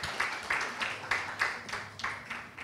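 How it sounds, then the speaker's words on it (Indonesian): Applause from a conference audience in Indonesia welcoming a speaker, heard as a faint, steady patter of many hands with about eight louder rhythmic bursts, short and without talk. "Kita beri tepuk tangan yang meriah bagi Ibu Yvonne."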